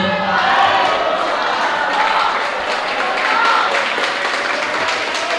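Sustained, loud applause from a school audience at a language month celebration after a student's speech, many hands clapping steadily with a crowd murmur beneath.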